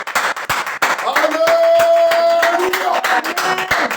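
A church congregation at a praise and worship service claps hands in quick rhythmic bursts, loud and close, with voices singing or calling out over the clapping.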